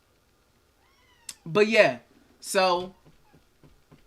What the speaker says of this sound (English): Sorry if you hear my cat. He's being an attention seeker right now if you hear him meowing.